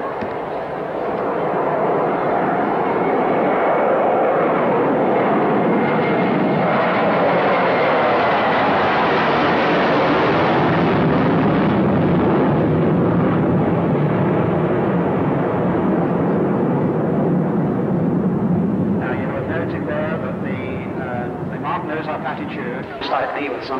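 A Concorde jet flies past at the 1986 Leicester International Airshow with a loud, continuous roar that swells and slowly shifts in pitch as it passes, steady for over twenty seconds.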